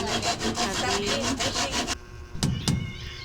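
A hand saw cuts through wood with rapid, regular back-and-forth rasping strokes close by, then stops, followed by a couple of sharp knocks and light handling sounds.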